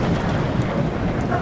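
Heavy rain pours outdoors at Nilachal in Bandarban at dusk, a loud dense wash of rainfall with wind rumble buffeting close by.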